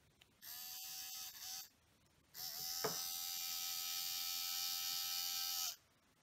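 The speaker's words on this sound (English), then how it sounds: "it's a geared motor." A small geared motor salvaged from an old inkjet printer runs off a 9-volt battery, producing a faint, high whirring buzz in two bursts, a short one and then a longer steady run.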